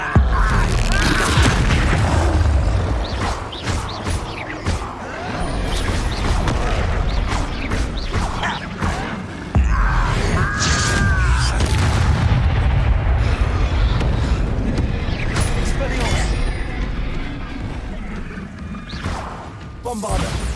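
Bombarda blasting spells exploding in the wizarding game Hogwarts Legacy, a long run of loud, booming blasts and crashing impacts piling up over each other, with dense debris noise and occasional spoken spell calls mixed in.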